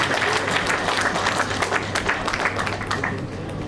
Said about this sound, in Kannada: ಒಂದು ಜೋರಾದ ಚಪ್ಪಾಳೆ ಬರಲಿ